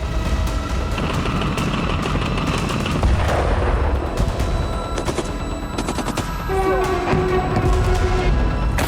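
Rocket launcher and artillery fire at military positions near Pokrovsk in the Russia–Ukraine war: continuous rapid bursts of gunfire and booming impacts, loud and dense throughout, with a faint voice in the mix.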